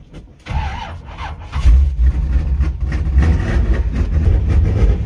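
Carbureted car engine cranking on a cold morning, a brief pause and then loud, close churning of the starter with the engine catching and running roughly, rumbling continuously to the end.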